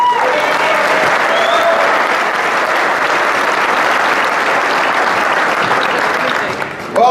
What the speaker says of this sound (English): we'd like to give a round of applause for Joseph Lehman.